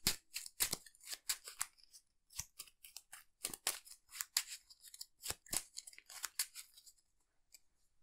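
Cards being shuffled into an Arkham Horror card game encounter deck, a series of sharp, crisp riffling snaps in quick irregular bursts, fairly close, thinning out toward the end, with no talk.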